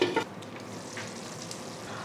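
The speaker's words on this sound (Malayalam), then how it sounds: "ഇനി ഇത് മീഡിയത്തിൻ്റെ ലോ ഫ്ലെയിമിൻ്റെ ഇടയിലിട്ടിട്ട് അടച്ചു വെച്ച് വേവിക്കണം." Brinjal masala curry (ennai kathirikka) with oil sizzles in a pan while being stirred, a close, steady frying hiss with soft scraping of the spoon.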